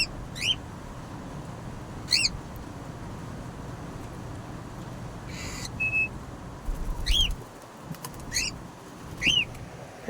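A person whistles short, sharp two-note calls at home to get a pet's attention. Five or six quick chirps come at irregular intervals over a steady low background hum, fairly close and clear, with no talking.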